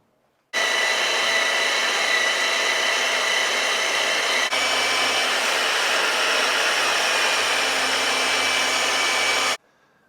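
A power tool cuts slots into a deer jawbone for a tomahawk, running as one steady, loud, high whine for about nine seconds with no talk, then stopping abruptly.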